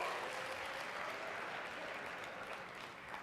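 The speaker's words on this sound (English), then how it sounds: "Really? You guys are gonna clap for that?" Sustained audience applause fills a talk or lecture hall, a steady, dense clatter of many hands that holds for several seconds and eases slightly toward the end.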